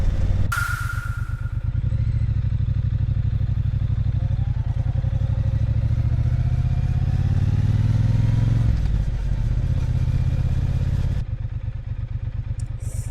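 A Triumph Bonneville T120 motorcycle rides through city streets, its engine loud, close and continuous with a steady low rumble and a shift in tone partway through, with no talking.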